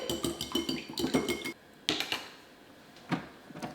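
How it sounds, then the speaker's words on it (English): A whisk beating three eggs in a bowl gives a quick burst of rapid metallic clinks, then a pause and a few isolated taps against the bowl, close and fairly quiet. "whisk up a few eggs, put them in a bowl"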